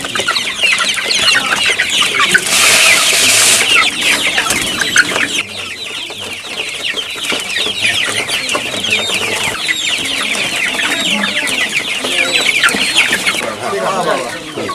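BAU chickens on a small farm in Naogaon cluck loudly and continuously, a busy flock chattering close by with scattered squawks and a louder burst early on.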